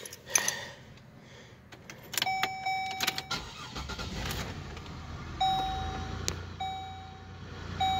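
A 2002 Buick LeSabre Custom with 268,000 miles is started with keys: keys jangle, a warning chime dings repeatedly, and the engine cranks and settles into a low idle.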